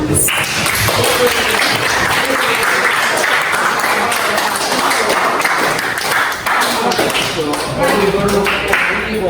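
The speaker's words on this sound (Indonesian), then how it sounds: "Itu dari teman-teman kalian yang beri tepuk tangan." Classmates applaud together in a room, a loud continuous patter of clapping with some thumps and taps mixed in, steady across the whole stretch.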